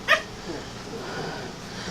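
Seven-week-old puppies at play give one sharp, high yip near the start, followed by quiet rustling and faint movement for the rest of the stretch.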